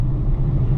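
A 2023 Polestar 2 electric car accelerating hard, heard from inside as a steady, loud low-frequency road and drivetrain rumble with no engine revving, continuous throughout.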